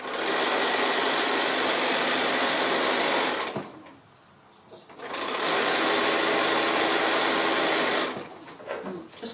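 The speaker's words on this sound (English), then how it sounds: "I'm just sewing quite close to the fold" A sewing machine stitches near the fold of a table runner, its loud, steady motor whir running close by, halting for about a second and then resuming before it slows near the end.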